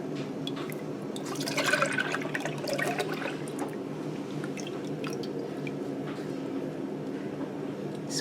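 Chai tea ice cream mixture poured from a bowl into a container, a steady wet liquid stream with soft gurgling that swells near the middle and then trails off under a low background hum.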